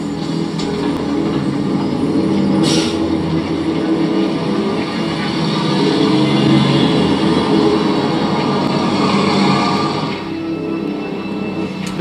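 Train rumble in a UK short film, a steady loud rolling drone of wheels and engine running throughout with a brief hiss near the start, no speech.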